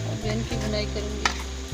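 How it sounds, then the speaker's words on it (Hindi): Onion, tomato and green chili paste sizzles steadily in a pan while being stirred, a close, continuous frying hiss with occasional scraping, no speech over it. "इनकी बुनाई करूँगी।"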